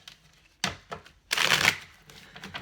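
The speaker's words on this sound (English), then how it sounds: "Okay, so one more shuffle." Cards being shuffled: a few quick riffling flicks, then a longer buzzing riffle and a soft bridge, close and fairly quiet.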